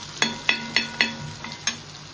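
Fish frying in a pan after being turned to the second side gives a low sizzle, with a run of rhythmic clacks and scrapes from the spatula, five close together and then one more, all without speech.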